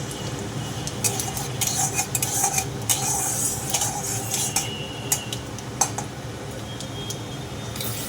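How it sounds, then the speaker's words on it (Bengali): Panch phoron and a dried red chilli crackling in hot oil for an olive pickle, a continuous low sizzle punctuated by sharp metallic clinks and taps of a spoon against the pan. "পাঁচ ফোড়ন দিয়ে দিলাম, একটা শুকনো লঙ্কা ফাটিয়ে দিয়ে দিলাম"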